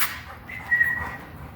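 A single short, thin whistle rises over breezy outdoor wind, calling Edgar, a blind rescue dog; the tone is brief and moderately near against a steady windy background.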